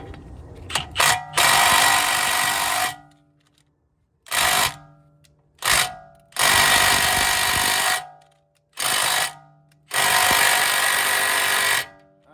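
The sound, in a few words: long extended ratchet and socket cracking wheel bolt loose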